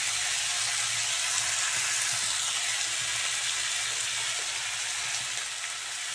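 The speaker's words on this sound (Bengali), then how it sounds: "টমেটো ভেজে নিয়েছি, আমি তুলে দিই। ভালো করে আমি কষে নিলাম" Tomatoes with salt frying in a pan for a rohu fish curry with drumsticks, a steady loud sizzle that fills the whole stretch with no talk over it.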